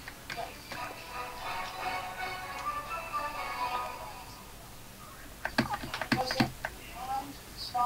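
Computer keyboard keys are typed in a steady patter during a Minecraft building session, then a sharper burst of backspace presses near the end, with a voice talking over part of it.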